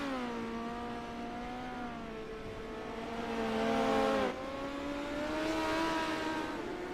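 Midget race cars running practice laps on a dirt track, engines droning and rising in pitch as they accelerate, with a sharp drop in pitch as one passes, heard from a moderate distance.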